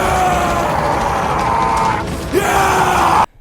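Warriors in a film scene yell and bellow around a campfire, loud, raw and sustained, with several voices overlapping in close, angry shouting that ends abruptly.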